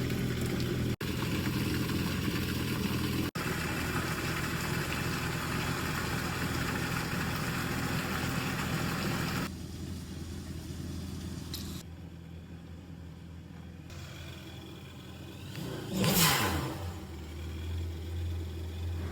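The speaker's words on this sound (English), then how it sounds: "Warm the engine up for 5 minutes before completing your oil extraction." A Yamaha WaveRunner 1.8L engine idles steadily during warm-up with a low, continuous rumble, dropping slightly in level partway through, with a brief rise near the end.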